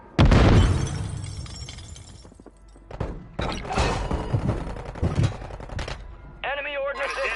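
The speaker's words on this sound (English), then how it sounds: "Stun grenade out!" A stun grenade goes off in the Warzone video game, giving a sharp loud blast that fades into a rattling tail, followed by further bursts of gunfire-like impacts and a warbling electronic tone.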